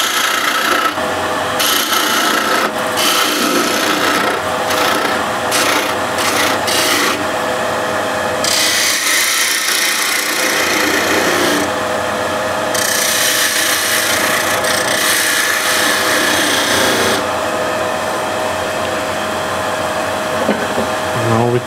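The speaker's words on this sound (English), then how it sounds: "The skew, I'm just going to give this a little bit more like a groove so it's nicely distinguished." A skew chisel cuts a groove into a spinning wooden workpiece on a lathe, giving a continuous scraping, rasping hiss that shifts in intensity as the tool moves, close and loud, over the lathe's steady hum.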